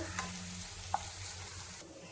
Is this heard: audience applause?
no